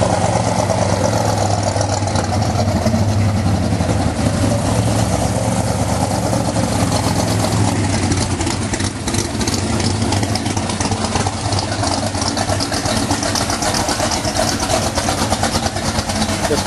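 A 1941 Willys with a supercharged big-block engine idles steadily and loudly at a performance shop, its rough, lumpy rumble holding constant throughout.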